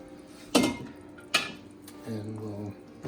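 An ingredient is tipped straight into a pot of tomato sauce, giving two sharp, close clanks about a second apart, followed by a brief voiced murmur.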